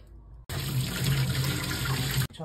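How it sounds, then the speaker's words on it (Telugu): Water from a kitchen tap runs steadily over a frozen mango ice-cream tray, a continuous close splashing stream for about two seconds, starting and stopping abruptly. "ఇప్పుడు ట్యాప్ కింద ఒక 1/2 మినిట్ వరకు ఇలా తడుపుకోండి."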